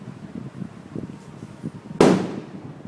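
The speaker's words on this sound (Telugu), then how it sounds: "ఏంటది? టపాకాయలు." A single loud, sharp firecracker burst goes off at a wedding, close by, after quieter background murmur, and it leaves a brief decaying crackle.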